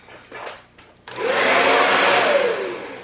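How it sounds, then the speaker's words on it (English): A handheld blow dryer set to its highest heat and speed, its oversized nozzle wedged in place with paper, switches on abruptly after a quiet moment and roars in a loud, steady whir. "And I put my blow dryer on high and the highest speed, highest heat, highest speed, highest everything."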